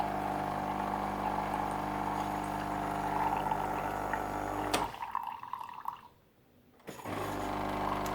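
A new Nescafe Dolce Gusto Krups Infinissima coffee machine pumps water through into a cup, a steady loud hum with gurgling that cuts out abruptly, leaving a brief near-silence before a low drone resumes.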